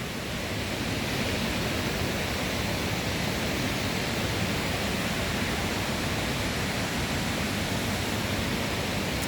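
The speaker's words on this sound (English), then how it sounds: "Oh, I see the waterfall." A waterfall in the hills near Chiang Mai, Thailand: a constant broadband rush of falling water, loud and unbroken, with no voices.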